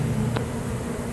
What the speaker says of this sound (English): see, there's bees, stragglers kind of walking around in here